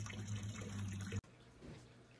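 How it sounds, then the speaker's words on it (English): A small homemade backyard pond waterfall trickling and splashing, heard fairly close for about a second before cutting abruptly to a quieter, softer water patter. "I'm gonna send y'all to a clip of the waterfall that I've made"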